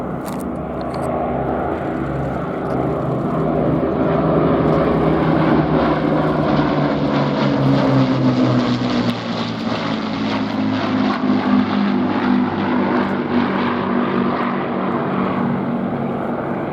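A US Air Force CV-22 Osprey tiltrotor flies past at an air show, its deep throbbing rotor drone loud and steady, swelling and shifting pitch as it passes, with no talk over it.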